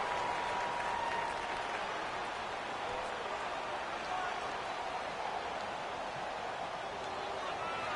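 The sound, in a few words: crowd cheering in a PS4 American football video game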